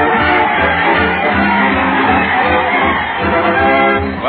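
Crowd filing into an old town hall on St. Patrick's Day, heard on a vintage radio comedy broadcast: a steady, loud murmur of many voices and shuffling, with a voice speaking over the hubbub throughout.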